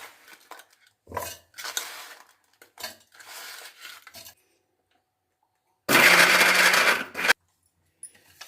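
Mixer grinder grinding jaggery, with a loud whirring burst of about a second and a half near the end, preceded by scattered clinks and short rattles of handling the jar.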